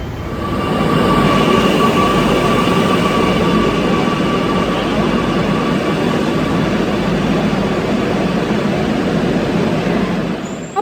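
Steady rumble and whir of a Kochi Metro train in motion from Vyttila to Maharaja's, continuous and loud from inside the carriage, with a faint high whine running throughout.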